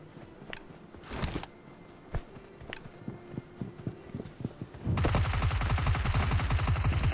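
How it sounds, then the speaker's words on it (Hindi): Gunfire in a mobile shooter video game: scattered single shots and clicks at first, then a sustained, rapid automatic burst filling the last couple of seconds. "सामने की साइड से हम पे फायर हुआ"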